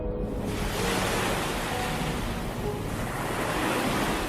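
Ocean surf pounds during bad weather at a dive site, a dense continuous roar of waves mixed with wind buffeting the microphone, loud and unbroken throughout.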